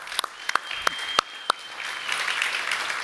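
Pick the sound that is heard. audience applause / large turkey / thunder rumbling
audience applause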